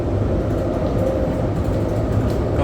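Steady rumble and rolling rattle of a passenger train riding from Fresno to Hanford, California, heard from inside the car as a continuous loud drone with no pauses.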